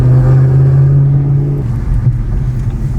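A car on drag radials pulls hard in second gear, its engine a loud, close, sustained droning roar that holds steady and then roughens as the pull goes on, with no voices over it.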